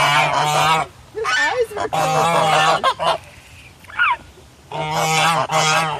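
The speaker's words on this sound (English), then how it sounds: "Almost like it's crying, that white Chinese goose." A white Chinese goose honks in loud, repeated nasal calls nearby, with a person briefly speaking between the calls.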